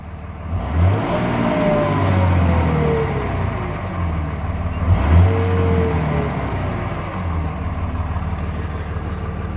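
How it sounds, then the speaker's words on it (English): A stock 2004 Dodge Ram 2500 pickup with a 5.9L Cummins diesel engine starting up and running, with two loud revs rising and falling over a steady, close diesel rumble, no talking. "we'll go ahead and start this truck up"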